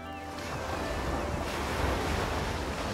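Sea waves in the video game Unravel wash steadily throughout, a continuous broadband surf roar with a gusty, windy texture and no talking.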